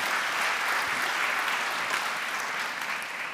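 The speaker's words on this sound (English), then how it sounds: "that one person clapped and then the rest of you clapped" Audience applause fills a lecture hall after a talk, steady and dense throughout at a moderate level, with no voices over it.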